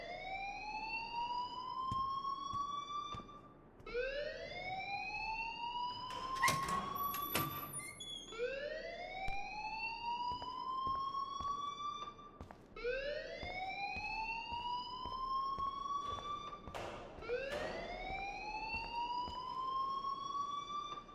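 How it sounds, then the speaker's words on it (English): School alarm wailing in the video game Life is Strange, a loud repeating rising siren sweep cycling about every four seconds, continuous and close, with occasional faint clatter and no talking. "please turn off that alarm since that's your job"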